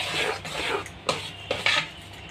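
A spoon works bread dough for morobba bread in a bowl, a few soft scraping strokes and light knocks against the bowl, close and fairly quiet.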